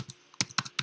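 Close, crisp keystrokes tap on a computer keyboard during a login, about five quick clicks spaced unevenly within less than a second.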